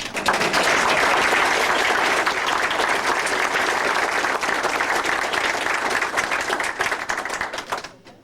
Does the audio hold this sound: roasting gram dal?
no